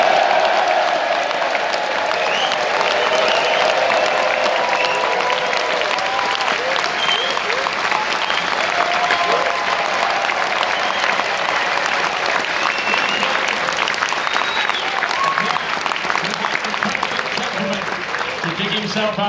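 The Crucible crowd at the World Snooker Championship in Sheffield applauds continuously before the evening session, a loud, dense wash of clapping with faint whoops and cheers that holds steady throughout.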